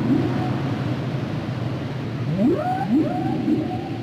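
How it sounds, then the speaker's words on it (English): A humpback whale sings rising, swooping moans and upsweeping cries, set against a constant wash of underwater rumble and hiss. "Of all the whales, the humpback is the most vocal."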